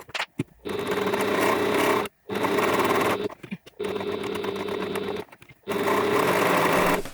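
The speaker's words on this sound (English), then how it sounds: "Now I can take this to the machine and just stitch around the end there." A sewing machine stitches a backpack pocket in loud, steady whirring runs, broken into several bursts by short pauses, with no voice over it.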